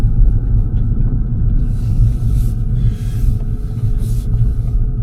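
Fiat 500e electric car pulling away gently across a slippery parking lot, a steady low rumble of tyres and road noise with a faint high whine rising and falling, no voices.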